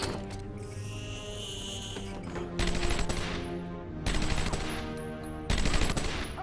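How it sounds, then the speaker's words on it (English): Rapid bursts of video game gunfire sound over a dense, steady background of music and game noise, with three louder stretches of shooting. "What are you shooting at, you Barney?"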